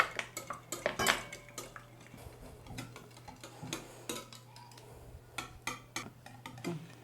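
A spoon or whisk mixes eggs and yogurt in a bowl, giving quick repeated clinks and taps against the bowl, close and fairly quiet, in uneven bursts with no talking.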